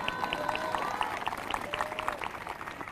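A church congregation at a live morning prayer service claps in a loud, sustained burst of crowd applause that keeps going for the full stretch and thins slightly toward the end.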